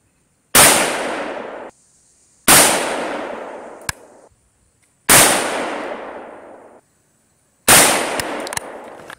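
An AK74 rifle fires Ukrainian ammunition from a Russian plum-colored magazine. Four loud, sharp single shots come roughly two to three seconds apart, and each one rings out into a long, fading tail.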